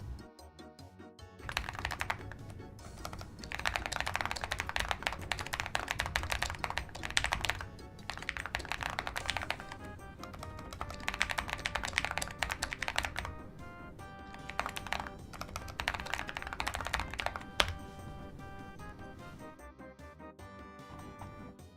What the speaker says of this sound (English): The keyboard sounds nice. Thanks. I spent a while building this keyboard actually.